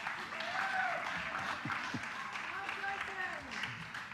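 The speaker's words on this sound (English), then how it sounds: "how about another round of applause for our sage on the stage?" Steady applause from an audience at a spiritual community gathering, a continuous wash of clapping at moderate level with a faint voice or tonal sound woven through it.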